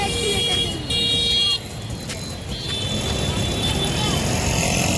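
Busy city road traffic during the Raksha Bandhan rush hums steadily with engines, and several car horns toot in short bursts near the start, while a person talks over the noise.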